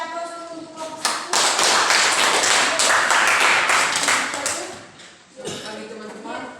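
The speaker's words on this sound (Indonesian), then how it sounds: "Kita beri aplaus dulu untuk kelompok 1." A classroom audience at a junior high school in Manggarai Timur applauds a student group, several seconds of loud, dense clapping that fades. A voice speaks before it, and talk resumes as it dies down.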